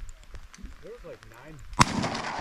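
A single sharp shotgun blast during a public-land duck hunt from kayaks, sounding once near the end as a loud close report with a lingering rumble, following people talking.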